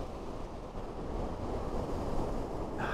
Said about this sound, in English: that's them waves crashing on that sandbank.